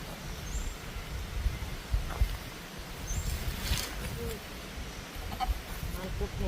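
Chickens cluck in scattered short calls in an outdoor rural setting, faint to moderate amid background noise and low thumps, with people talking nearby.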